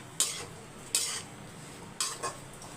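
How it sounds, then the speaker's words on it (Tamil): A spoon stirs and scrapes curry leaves being sautéed in a pan for mutton curry, giving four sharp metallic strokes against a faint, steady sizzle. "ரெண்டு கை கருவேப்பிலை போட்டு நல்லா வதக்கிக்கலாம்"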